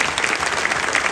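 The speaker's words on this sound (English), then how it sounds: "give a hand clap there, please" An audience at a quarterback club luncheon claps hands, a brief, thick burst of steady applause from many people, close and fairly loud.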